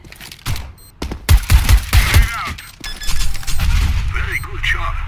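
Rapid bursts of gunfire in the video game Counter-Strike: Global Offensive, loud sharp shots in quick clusters with impact sounds, while a person talks over the action.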